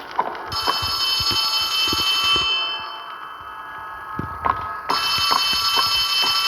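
An electronic telephone ring in the video game Poppy Playtime trills in repeated bursts, stopping briefly in the middle before resuming, with soft thumps and clatter underneath.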